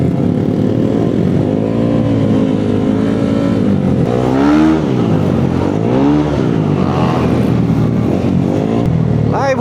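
Motorcycle engine of a custom-built tricycle at a tambike gathering, a close, loud running engine with rising and falling revs throughout and people talking nearby.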